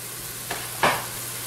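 Garlic hitting hot oil in a pan while escarole cooks down for a Tuscan escarole and white bean soup: a brief soft hiss, then a louder sizzling burst that fades away, heard alone with no voices.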